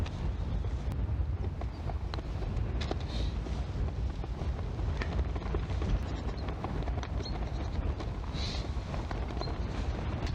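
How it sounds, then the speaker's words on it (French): Wind blowing across an outdoor golf course, a constant loud broadband rumble of gusts buffeting the microphone throughout, with no speech. "il y a le vent qui se lève encore plus"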